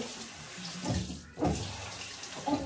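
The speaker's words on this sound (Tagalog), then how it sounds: "So, maghugas tayo ng kamay." Tap water runs into a bathroom basin during hand washing, a soft steady splash that swells twice as hands move under the stream, heard up close with no talking.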